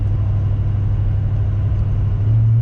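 Muffler-deleted Ram Powerstroke diesel pickup towing a heavy load uphill in sixth gear, a loud, steady, deep engine drone that holds constant throughout with no talking.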